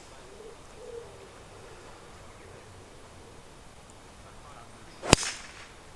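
A Provisional Quadra Max golf ball struck off a 3-wood on an outdoor course gives one sharp, loud crack near the end, after quiet outdoor ambience with faint birdsong.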